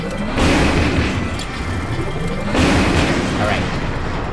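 Rockets explode in Kirby's Return to Dream Land Deluxe during a boss finale, two heavy booming blasts about two seconds apart over a busy, loud game background.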